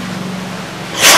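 A pet gives a single short, sharp sneeze near the end, right after a brief quiet pause, with no talking over it.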